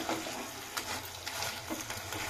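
Okra sautéing in a pan, a steady soft sizzle of frying with occasional scrapes and stirs of a spoon against the pan, close and continuous with no talk.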